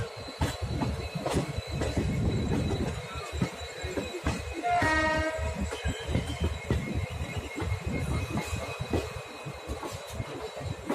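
An electric express train between Delhi and Ajmer, running with its pantograph raised, makes a loud, continuous rumble of wheels on rails with rhythmic clatter and a brief squeal midway.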